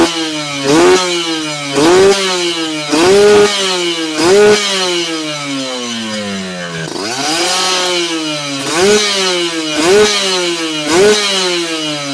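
A motorcycle engine, not yet warmed up, runs with repeated throttle blips, revving up and falling back in a steady rhythm, loud and close.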